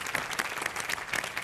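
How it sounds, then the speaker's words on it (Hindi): A studio audience on the Hindi game show Family Fortunes breaks into loud applause, a dense burst of many hands clapping close by for a brief moment. "जोरदार तालियां आपके लिए"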